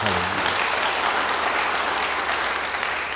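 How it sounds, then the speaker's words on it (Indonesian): A church congregation bursts into loud, dense applause during a sermon, sustained and even for several seconds after a brief trailing voice at the start. "Yang percaya beri tepuk tangan bagi dia."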